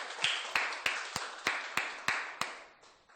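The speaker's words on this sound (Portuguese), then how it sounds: "Vamos dar uma forte salva de palmas para o nosso Deus" A church congregation claps in a regular, evenly spaced beat, about eight sharp claps over a few seconds. Each clap is loud and leaves a reverberant tail in the hall, and the clapping ends abruptly.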